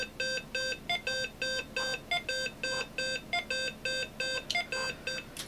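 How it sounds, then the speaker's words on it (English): A Macintosh TV computer gives a beep code at boot: a long run of regular, evenly spaced electronic tones, about a dozen clear beeps in steady rhythm, nearby and alone over faint hum. "So that's our beep code we have now."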